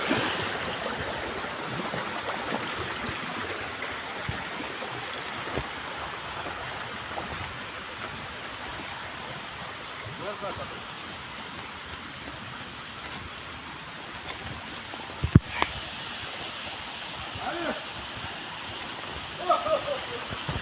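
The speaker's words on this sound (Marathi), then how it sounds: "हा बघा पाणी कसला वावता" A stream in Kajarad flows steadily in a continuous broad rush, with a few sharp knocks and rustles near the end.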